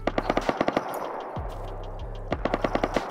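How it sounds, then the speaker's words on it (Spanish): Rapid automatic gunfire in the video game Rust, two fast bursts of sharp, evenly spaced shots separated by a brief pause, fairly distant and clear with no talk over it. "Le están disparando al Colque."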